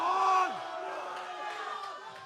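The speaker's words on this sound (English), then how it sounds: "Listen to this crowd." Crowd at a powerlifting competition yells and cheers loudly, with sustained shouting voices rising and falling together throughout.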